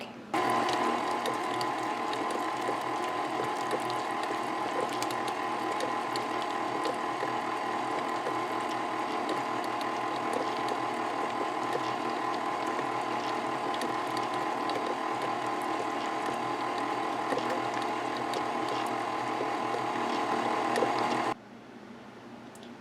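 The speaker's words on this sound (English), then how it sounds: "we're going to let the mixer work for a few minutes" An electric mixer beats banana bread batter with a continuous loud mechanical whirring and grinding that holds steady for about twenty seconds, then cuts off abruptly.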